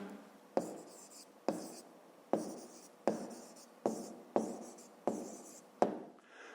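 An answer being written out for a fifth-grade math exercise, a pen or chalk tapping and scratching in a regular series of about eight close strokes, each a sharp tap that trails off in a short scratch.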